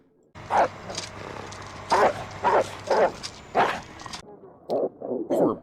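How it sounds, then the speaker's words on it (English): A chained-up dog barks repeatedly in loud, close bursts, mixed with whining and whimpering, over a steady background hum; the barking continues in uneven clusters after the hum cuts out. "Poor pup, just chained up to that."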